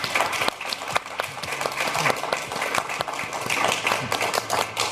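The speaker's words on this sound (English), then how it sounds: "Let's give them a big round of applause." An audience at a live podcast recording claps for the guests, sustained dense applause throughout, fairly close and loud.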